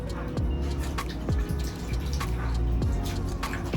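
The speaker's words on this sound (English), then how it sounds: "I'm gonna shake it in this water and let it clean itself off" Syngonium plant roots are shaken in a container of water to rinse them, giving repeated splashing and dripping sounds, close and fairly loud, with no talk.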